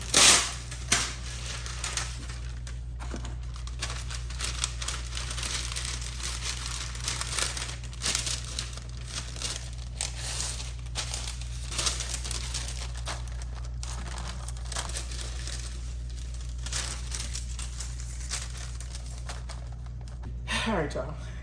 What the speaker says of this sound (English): get a little butter, put some parchment paper on them.